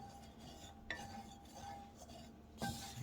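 Paneer going into melted ghee in a pan, soft clinks and scrapes of a utensil against metal over a faint low sizzle, quiet and close.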